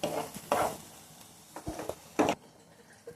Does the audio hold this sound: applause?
no